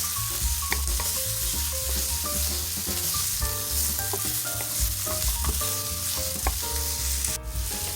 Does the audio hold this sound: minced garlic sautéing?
yes